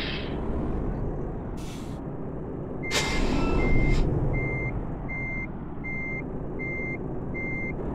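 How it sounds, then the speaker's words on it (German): Reversing beeps from a truck in Euro Truck Simulator, a steady run of evenly spaced electronic tones over engine drone, with a hiss of air brakes earlier on. "Ich sollte rückwärts fahren."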